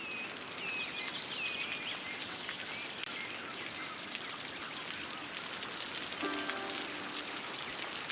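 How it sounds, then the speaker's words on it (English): Steady rain from a city-building game, a soft, even hiss of falling drops that runs the whole way through, with a few faint bird chirps early on and a brief tonal blip near the end. "As you can see, it's raining."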